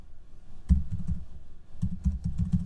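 Code being typed on a computer keyboard, heard as close clicking keystrokes in two short bursts separated by a brief pause.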